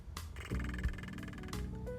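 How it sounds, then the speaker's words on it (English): A singing lip roll made by blowing through loosely puckered lips: a close, buzzing, pitched trill that restarts in a few short bursts and shifts pitch. "roll is by puckering your lips like you're going to kiss somebody and blowing"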